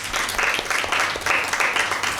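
Audience applause rings out at a Mother's Day Bible quiz, a steady burst of many hands clapping at close range that holds for the whole stretch with slight swells and dips.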